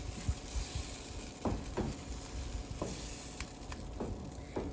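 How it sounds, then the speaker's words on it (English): Mung bean egg being stirred into scrambled tofu in a pan, with a faint sizzle under a few soft scraping strokes of a utensil spaced about a second apart. Quiet and close, no talk. "I'm going to stir it in here a little bit."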